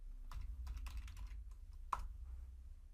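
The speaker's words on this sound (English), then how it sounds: "type Python and then hit the Enter or Return key on your keyboard" Fingers typing on a computer keyboard, a quick irregular run of close key clicks followed by a single sharper press, quiet with a low background hum.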